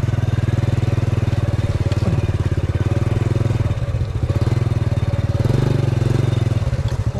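A motorcycle rides through mud on a rural village road, its engine chugging steadily and close with small throttle swells throughout.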